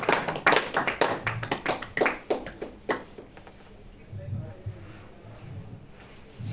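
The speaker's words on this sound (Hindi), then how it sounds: "ताली अपने लिए बजाइए" An audience at a talk claps in a burst of close, sharp hand claps that thins into scattered taps and then fades, with a soft murmur of voices underneath.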